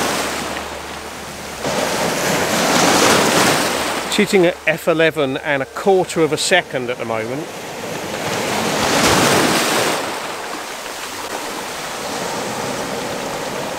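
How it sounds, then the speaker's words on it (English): Ocean waves break and wash ashore at sunset, a steady roar swelling and receding with wind buffeting the microphone, while someone speaks briefly over the surf in the middle. "I'm still just trying to capture waves breaking"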